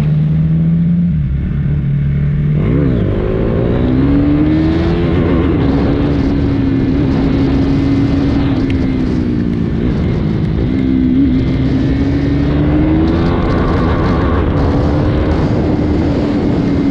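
A KTM Duke 390 motorcycle is ridden on the road, its engine droning loudly and steadily. The pitch rises and falls as the revs change, with one clear rev-up early on and wind rush throughout.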